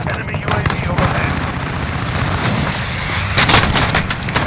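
A VTOL aircraft fires on the player in a Ground War match of a video game: rapid bursts of loud gunfire and booming impacts, dense and continuous, with a sharper cluster of shots near the end.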